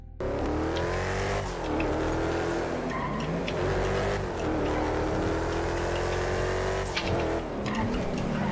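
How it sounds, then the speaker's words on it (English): A car in the FiveM driving game revs and skids with tire squeal, its engine roaring loud and continuous throughout, with no talk over it. "I don't know why he's crashing my car like that."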